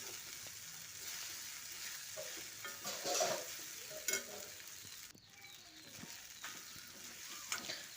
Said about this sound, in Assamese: গোটেইখিনি মই ভালদৰে মিক্স কৰি লৈছোঁ